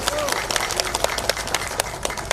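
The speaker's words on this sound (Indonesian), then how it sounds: "Tepuk tangan buat semua yang hadir di sini." Audience applause at a political gathering of democracy activists in Bandung, a dense, steady burst of clapping from a crowd lasting throughout, with some voices mixed in underneath.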